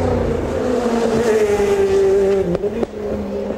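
Front-wheel-drive touring race cars slide their tails up a hill, engines droning loud and close with rising pitch as they pass, then a couple of sharp tire chirps near the end.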